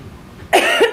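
A single harsh cough bursts out after a short quiet stretch, close and loud, with a second rougher push at the end.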